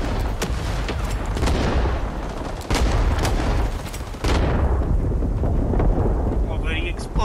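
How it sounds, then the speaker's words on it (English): Loud booming blasts and bursts of gunfire fill a Rising Storm 2 battlefield, with several sharp heavy impacts over a dense, continuous rumble of combat while players shout in the background. "Oh, bloody explosion."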